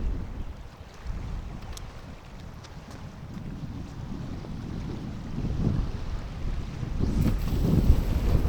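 Strong wind gusting and buffeting the microphone at a riverbank during a cold front, a steady low roar that builds louder toward the end, with no talking.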